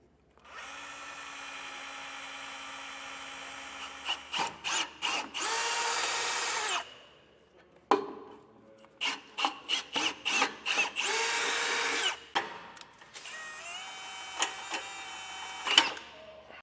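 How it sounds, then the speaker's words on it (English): A power drill with a bit stepped up to 1/2 inch whirs in sustained runs broken by rapid trigger pulses, drilling holes for a base plate on a 2024 Cadillac Escalade, close and loud with no talking. "now we're going to step up our drill bits all the way up to that 1/2 inch and drill these 2 out"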